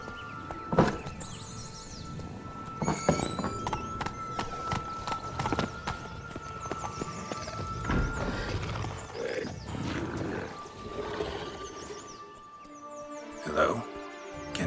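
Hooves of Geralt's horse Roach thud along in The Witcher 3 as he rides, an irregular clatter of strikes under spoken dialogue and other game sounds.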